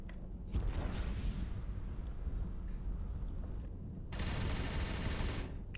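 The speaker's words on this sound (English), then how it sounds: "And these chain guns." Chain guns fire on a spaceship in the space game Avorion, producing a sustained rattling barrage with a wind-like rushing wash that swells and drops across several seconds.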